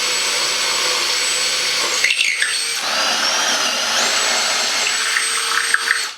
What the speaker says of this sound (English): Then drill a 10mm hole all the way through to run the wires.